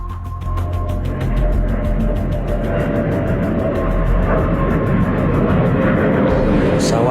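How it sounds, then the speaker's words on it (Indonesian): A Firefly propeller aircraft patrolling overhead gives a continuous low engine drone that builds slightly in loudness, with a steady rumble throughout and no voices. "Pesawat Firefly masih berpatroli di angkasa."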